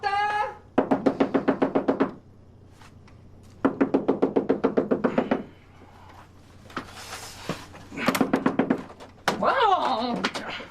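Rapid bursts of loud knuckle knocks on an apartment door, several rounds of fast repeated raps separated by pauses, close and sharp, with a voice calling out between them.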